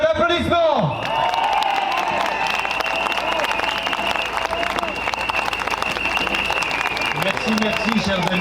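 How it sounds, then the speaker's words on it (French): A rally crowd at a March 2022 demonstration breaks into sustained applause after a voice at the start, the clapping dense and steady with scattered shouts mixed in. "Je vous prie de lui faire un tonnerre d'applaudissements."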